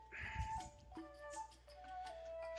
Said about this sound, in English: Our cats all let us know and meow and scratch